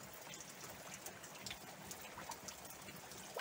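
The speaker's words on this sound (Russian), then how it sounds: "Дождь, дождь, дождь." Rain falls steadily outdoors near a garden gate and a veranda whose roof is leaking, a dense, quiet patter and trickle with scattered brighter drops throughout and no voices.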